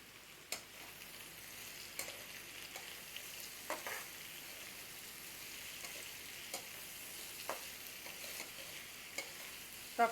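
Chopped capsicum stir-frying in a pan for chicken Maggi, a low, steady sizzle with occasional soft clicks of a spatula stirring against the pan, quiet and without any talk.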